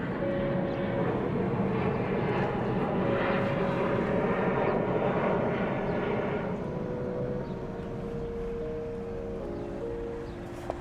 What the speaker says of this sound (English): you're gonna see a lot of planes passing overhead